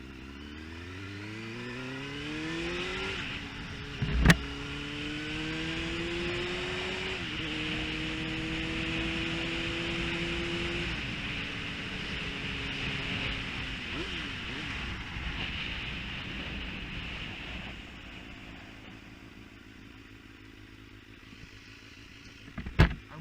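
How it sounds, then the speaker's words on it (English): Motorcycle ridden on an open road, its engine note rising and falling steadily through shifts for over twenty seconds, with faint wind rush and a couple of sharp knocks near the start and end. "I'm riding a motorcycle."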